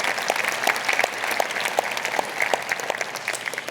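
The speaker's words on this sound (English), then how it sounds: "yes, a big applause." An audience at a city State of the City address breaks into steady, moderately loud applause, a dense patter of clapping hands throughout.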